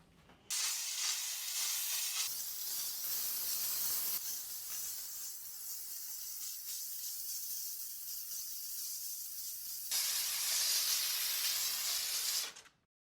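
A Dupray NEAT steam cleaner with a nylon brush works a stovetop, giving a loud, steady close hiss of steam that runs continuously for about twelve seconds, growing brighter near the end before cutting off.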